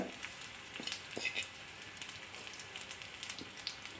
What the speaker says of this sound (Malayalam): ഒരു ഗോൾഡൻ ബ്രൗൺ ആകുന്ന വരെ നമുക്കൊന്ന് വറുത്തെടുക്കാം